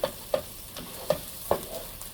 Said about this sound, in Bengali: এখানে চালটা সুন্দর করে ভেজে নিয়েছি।